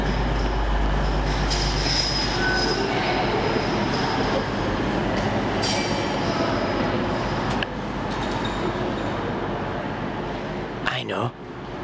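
A Derby train arrives at a station platform, its steady rumbling roll carrying on for several seconds before a brief sharp wheel squeal near the end.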